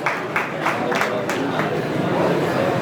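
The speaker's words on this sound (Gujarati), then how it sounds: "જોરદાર તાળીઓથી વધાવી" A crowd at a Dodiya family community get-together in Chotila breaks into applause, with rapid clapping bursts over a steady murmur of voices and hall noise.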